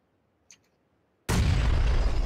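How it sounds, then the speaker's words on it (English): A grenade explodes in the PUBG battle royale game: a faint click, then after a short silence a sudden loud, sustained blast that fills the rest of the moment. "Oh, that's a fucking grenade"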